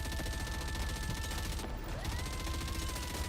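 Rapid turret gunfire from the video game Nikke, a dense, steady barrage of shots filling the whole stretch at constant loudness, with faint electronic tones running underneath.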